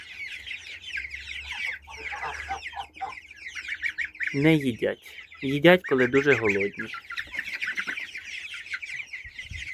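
Chickens of a large breed cluck and chatter continuously in a farmyard, with a few louder squawks standing out midway; someone speaks over the flock at times.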